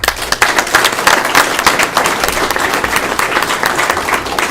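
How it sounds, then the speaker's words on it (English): Loud, dense applause from the audience at a general membership meeting, many hands clapping close and continuously with no break. "let's give them a round of applause."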